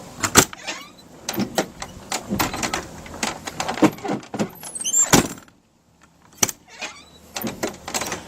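A vehicle door opened and closed during an inspection, heard as a series of sharp latch clunks, creaks and thumps of varying loudness spread across the clip, with a brief quiet gap midway and no talk.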